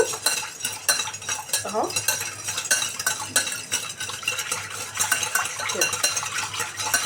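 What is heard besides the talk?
stirring sugar in a pan until it dissolves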